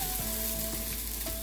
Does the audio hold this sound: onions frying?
yes